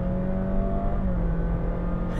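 A 2021 Honda Jazz Hybrid Crosstar accelerating, heard as a steady, fairly loud engine and drivetrain hum with a faint rising whine, a sustained even drone from inside the car without talk.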